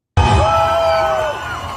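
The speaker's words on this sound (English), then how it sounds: "It's absolutely flooded with people cheering for President Khomeini." Dense crowd cheering in the streets of Washington, D.C., a loud sudden burst of yelling and whooping voices that holds steady, close and overwhelming, with one prominent shout rising above the mass.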